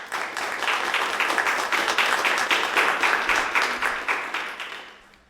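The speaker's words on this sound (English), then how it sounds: "And now please give a great round of applause for our co-host and the director of the Museum of Architecture and Design," A conference audience at the Museum of Architecture and Design in Ljubljana applauds the museum director, steady moderately loud clapping that fades out near the end.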